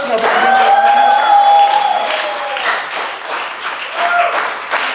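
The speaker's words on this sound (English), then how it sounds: "Clap it up once again for Steve and Tyler." Audience applause and clapping at a live roast comedy competition, dense and continuous across the clip with crowd noise and a voice speaking over it.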